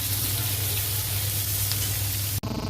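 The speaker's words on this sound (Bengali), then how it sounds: "পেঁয়াজটাকে ভাজা হতে দেব।" Onions fry in hot oil for a Bengali potato curry with new potatoes and green peas. A loud, continuous sizzle with a low hum holds close and steady, then cuts off abruptly near the end.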